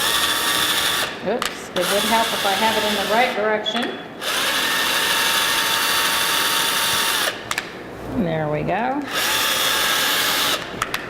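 A power drill whines in bursts, revving up and down as it drives screws into wood, with a person talking briefly between runs.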